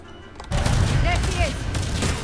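Loud pistol shots and combat effects in the sci-fi video game Mass Effect 3, a sharp burst followed by rumbling impacts and whooshing tones.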